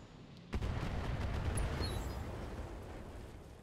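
A tank cannon fires on an enemy tank in a combat video game, one loud booming shot that rolls into a long decaying rumble, with no talking.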